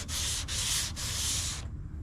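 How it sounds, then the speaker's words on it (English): A sanding block scrubs across a car hood during dent repair bodywork, making three steady, rasping back-and-forth strokes close up before the last one trails off. "I'm going to be sanding and keeping the block"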